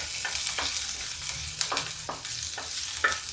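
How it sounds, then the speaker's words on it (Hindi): Garlic and green chillies frying in oil with crackling cumin seeds over low gas, a steady soft sizzle broken by repeated scraping stirs of a spoon against the pan, close and alone. "इसमें डाल देते हैं लहसुन, हरा मिर्चा, और इसको चला देते हैं"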